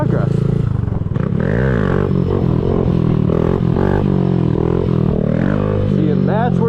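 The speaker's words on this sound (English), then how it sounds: "I just got to work on my side to side and not having such a choppy throttle while I'm in the wheelie" Motorcycle revving with a choppy throttle during a beginner's wheelie, the engine droning loud and close with rising and falling pitch throughout, while someone talks over it.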